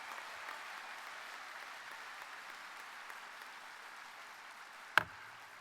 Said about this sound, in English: How about another round of applause for our anthem singer, Brian DeBose, and the Mooseheart NJRTC Color Guard.